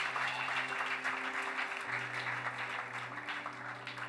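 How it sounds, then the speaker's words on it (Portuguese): Soft, steady applause from a church congregation, heard at a distance under a low sustained musical tone. "Aplauda mais uma vez forte ao Senhor"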